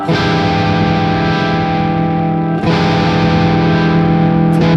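A thick, fuzzy distorted electric guitar through a Fender Mustang Micro amp holds a sustained, buzzing chord, briefly re-struck partway through, dense and loud with no voices.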